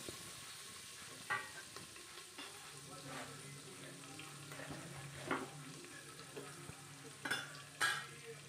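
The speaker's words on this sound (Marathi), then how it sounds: "तेलामध्ये व्यवस्थित परतून घ्यायचे आहेत" Small pieces of mutton sautéing in oil and ghee in a Kolhapuri home kitchen, a faint steady sizzle broken by scattered scrapes and stirring clicks of a spoon against the pan.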